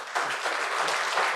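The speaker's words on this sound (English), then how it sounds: "So then give a clap." A dense, steady burst of audience clapping at a talk by Br Chandrasekhar in Amaravati, many hands at once, filling the short moment evenly with no voices over it.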